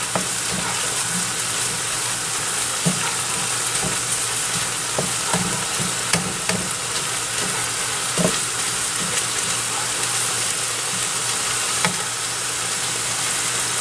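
Meat frying in a pan of oil gives a steady, loud sizzle throughout, with scattered crackles and pops over a constant low hum, and no voices.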